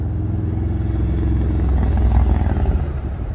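A Harley-Davidson motorcycle engine rumbles close by at a steady low idle, a thick, even throb that rises slightly midway and holds with no voices.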